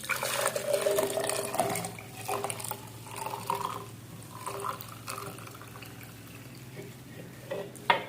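A herbal drink is poured into a storage can, giving a soft liquid splash and trickle near the start, then quieter dribbles and small handling clicks, with a brief knock at the end.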